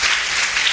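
A crowd at a sports club celebration in Lauria applauds the club president, producing a brief, loud, dense burst of clapping that lasts under a second.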